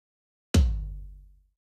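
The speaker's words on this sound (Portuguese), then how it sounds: "E esse é o som do trigger do surdo" Triggered floor tom (surdo) drum sample in a mix: one deep, booming hit with a sharp attack and a long low tail fading over about a second, heard alone.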